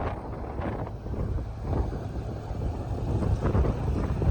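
Cold wind blows near the Rathoa Haryam Bridge in Mirpur, Azad Kashmir, a steady loud rushing buffet against the microphone with gusts swelling toward the end, no voices.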